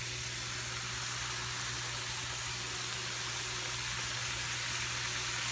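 Italian sausage in a pan over medium-low heat sizzles steadily as sauce is added, a constant, even hiss with a faint low hum underneath and no pauses.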